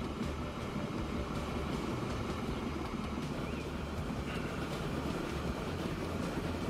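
A steam-era General locomotive runs in the railway simulation game Transport Fever 2, giving a low, steady rumble that stays even throughout with no speech.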